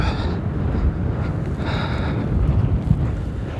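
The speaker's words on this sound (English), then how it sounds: "This wind is just unbearable here." Cold wind buffeting the summit of the Litlihrútur volcano, a loud, constant low roar and rumble of gusts hitting the microphone, with no voices.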